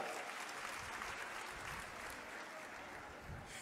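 Crowd applauding at a political rally in Pandhana, Khandwa district, with dense, steady clapping sustained throughout, no voices over it.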